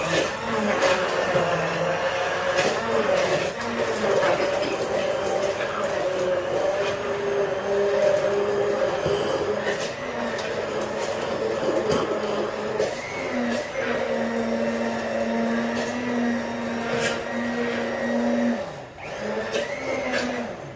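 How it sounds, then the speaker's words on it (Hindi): A kitchen blender whirs steadily while blending a shake at home, a continuous mid-pitched motor drone with a fluctuating hum that runs for about twenty seconds before briefly dipping near the end. "और ले लिया मैंने ब्लेंडर, और ब्लेंडर सा चला देती हूँ।"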